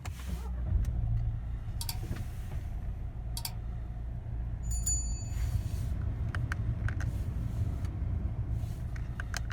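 A Renault Megane 4 engine runs at a steady low idle inside the car, a continuous deep rumble with a few sharp interior clicks and ticks scattered over it.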